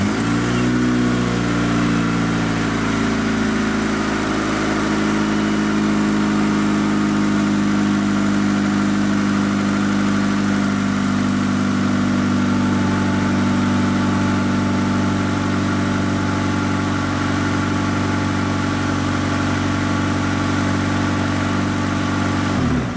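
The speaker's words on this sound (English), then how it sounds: "Start the vehicle and run it for about 30 seconds." A Honda Accord engine starts and settles into a steady, loud idle, a continuous low rumble that holds evenly for about twenty seconds, up close with no talk.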